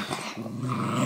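A dog growls low and continuously while tugging at a toy, close and fairly loud, the rumble building and holding steady with no voices.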